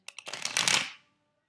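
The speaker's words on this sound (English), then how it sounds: "Now what do you do with a riffle shuffle? You do it as fast as you could" Playing cards get a quick riffle shuffle during a card trick, a single rapid, close flutter of cards lasting about a second that builds to a crisp burst and then stops, leaving silence.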